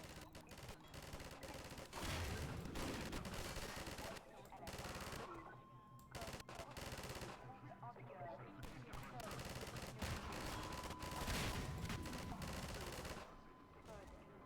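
Turret gunfire in the game Half-Life 2, dense rapid bursts of automatic shots mixed with chaotic combat noise, loud and nearly continuous with brief lulls, while someone talks over it.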